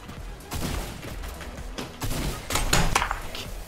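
Game combat in a Fortnite World Cup match, a shotgun blast among several heavy booming shots and thuds in a dense, noisy fight, fairly loud.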